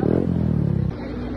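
A motorcycle engine runs close by, a steady low throbbing drone with clattery pulses that drops slightly in pitch near the end.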